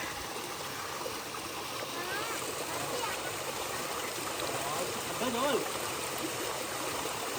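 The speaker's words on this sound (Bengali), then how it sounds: "এরকম জলের স্রোত যাচ্ছে, ওদিক দিয়ে বয়ে যাচ্ছে।" A mountain stream runs through quiet forest on the trail to Tiger's Nest in Bhutan, giving a soft, steady rush of flowing water with faint trickles heard from a short distance.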